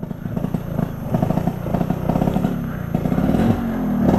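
A Vespa scooter running a standard 20-20 carburetor rides along with a steady, throaty buzzing two-stroke drone, loud and close, climbing slightly in pitch as it accelerates.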